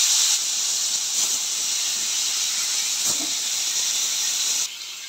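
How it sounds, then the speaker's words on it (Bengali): Hilsa fish frying in hot oil gives a steady, loud sizzling hiss that runs unbroken for several seconds, then drops to a quieter simmer near the end. "মাছগুলো দিয়ে দিলাম, তেল গরম হয়ে গেছে।"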